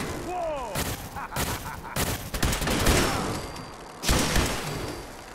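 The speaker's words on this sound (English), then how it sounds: "I'm gonna use the laser rifle." Laser rifle firing in Fallout 4 amid a chaotic firefight: rapid bursts of sharp zapping shots and booming impacts pile up loud and dense, with whooping tones and explosions layered over a constant roar.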